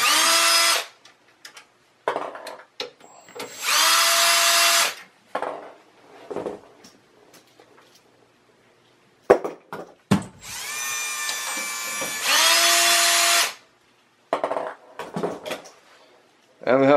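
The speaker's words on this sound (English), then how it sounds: "I'm gonna use a drill" A power drill whirs in several sustained bursts, close by, with clicks and handling noises between the runs as screws come out of the power supply of a Dell PowerEdge server.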